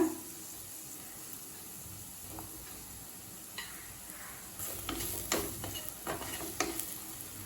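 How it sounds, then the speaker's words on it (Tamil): Chili powder sautéing in oil in a pan for cauliflower fried rice: a soft steady sizzle with occasional spoon scrapes, growing busier toward the end, with no talking. "இப்போ மிளகாத்தூள் வாசனை போக 1 நிமிஷம் வரைக்கும் நல்லா வதக்கியாச்சுங்க."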